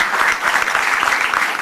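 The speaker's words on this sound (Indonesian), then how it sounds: "Tepuk tangan untuk Mbak Yeni Wahid." Studio audience at a TV talk show applauding a guest, Yeni Wahid; dense, steady clapping from many hands filling the room throughout, loud and continuous with no pause.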